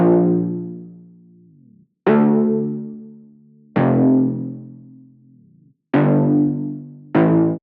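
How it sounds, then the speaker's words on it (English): A harmonically rich synth stab marking the start of each bar, struck five times with bright attacks that decay slowly into ringing tones before cutting off, alone and up front. "Then to add some emphasis to the beginning of each bar, I have this stab sound."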